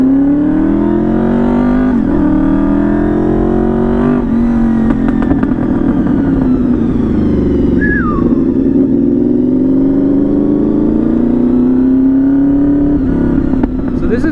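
A Honda VFR 800 sport bike engine drones steadily while riding, its pitch climbing and falling through gear changes, loud and close throughout with no voice heard.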